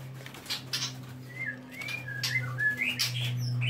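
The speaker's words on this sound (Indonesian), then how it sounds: "hanya burung murai batu saja yang diternak di tempat ini." Oriental magpie-robins (murai batu) at a breeding farm whistle and chirp in short, clear phrases, some nearby and some fainter, over a steady low mechanical hum.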